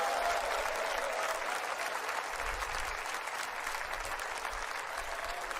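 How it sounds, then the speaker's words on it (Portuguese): A church congregation claps together in steady, dense applause that fills the room at an even level for several seconds, with no talk over it. "Só quem está feliz dá uma salva de palmas para o Rei Jesus."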